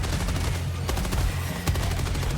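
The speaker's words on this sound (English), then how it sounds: "swapping to my machine gun." Rapid automatic machine gun fire in a co-op shooter video game, a dense continuous stream of close, loud shots with brief stutters, no voices over it.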